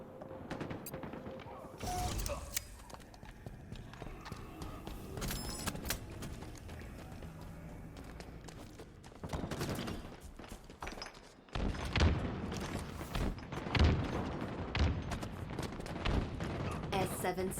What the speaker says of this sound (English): you heard all the fire, but all of the fire sounded like it was coming from A/window